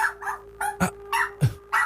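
A pet dog barks at close range, giving a quick run of about six loud, sharp barks and yips in under two seconds with short gaps between them.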